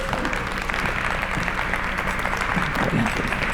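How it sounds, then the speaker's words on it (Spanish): An audience applauds a speaker being introduced at an expo talk, continuous even clapping filling the room with a murmur of crowd beneath. "les pido por favor un fuerte aplauso para Perla Bustamante"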